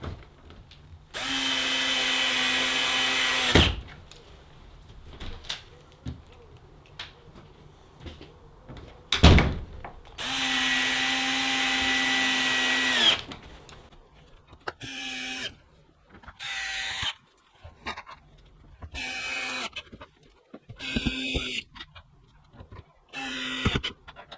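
A power drill drives screws into a KETER Store It Out Midi 880L plastic storage box, with two long close whirring runs followed by a series of short bursts between clicks and plastic knocks.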